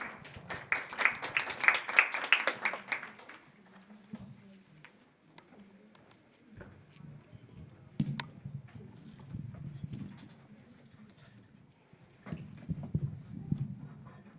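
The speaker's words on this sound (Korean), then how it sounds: "큰 박수로 모시겠습니다" An audience at a Korean startup and innovation conference bursts into brief applause for a speaker, loud clapping at first that fades within a few seconds, followed by quieter room noise, footsteps and faint sounds from the stage.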